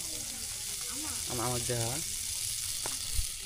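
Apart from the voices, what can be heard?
oil sizzling in a pan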